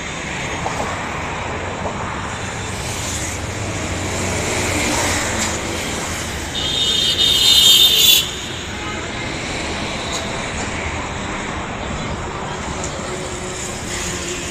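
Traffic on a four-lane road makes a steady broadband roar that swells briefly midway as a vehicle passes close, then settles back to an even rumble.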